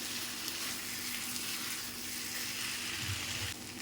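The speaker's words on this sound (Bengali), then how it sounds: "আমি ভেজে রাখা পটল আর আলুগুলো দিয়ে দেবো। মশলার সাথে ভালো করে মিশিয়ে নেব। ভালো করে কষিয়ে নেব।" Fried pointed gourd and potatoes are stirred into spices in a hot pan, giving off a steady, close sizzle that stays level throughout with no talking.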